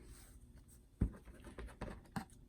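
Scissors cut through fabric for a fall wreath craft project, making a few quiet, close snips and crunches spaced irregularly over a soft background.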